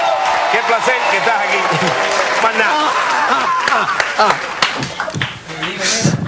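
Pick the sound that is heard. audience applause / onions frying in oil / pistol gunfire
audience applause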